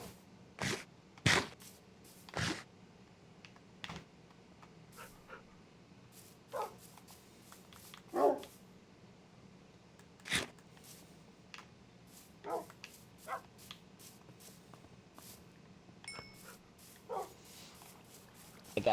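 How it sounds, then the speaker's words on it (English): Scattered dog barks and yips from Minecraft, each short and sharp, spaced irregularly over a low steady background hum. "I got a puppy, Robert."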